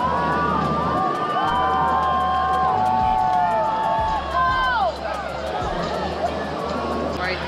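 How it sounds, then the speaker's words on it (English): A crowd cheering and shouting outdoors at a steady distance, mixed with whistles and rising whoops over a constant background hum. "we heard a bunch of people cheering"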